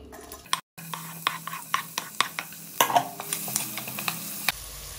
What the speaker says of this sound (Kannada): 4ರಿಂದ 5 ಸ್ಪೂನಷ್ಟು ಎಣ್ಣೆ, ಸೊಂದೆಗೆ ಹೆಚ್ಚಿರುವಂಥ ಈರುಳ್ಳಿ ಹಾಕಿ ಫ್ರೈ ಮಾಡ್ತಾ ಇದ್ದೀನಿ